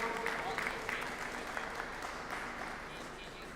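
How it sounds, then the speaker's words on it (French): An audience at Japan Expo applauds a participant coming up on stage, sustained crowd clapping at a fairly even level, with indistinct voices mixed in beneath it. "on va pouvoir l'applaudir bien fort"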